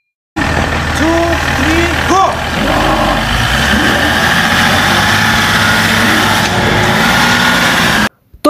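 A Range Rover engine runs with a steady low rumble and a broad roar for about eight seconds, with voices talking over it.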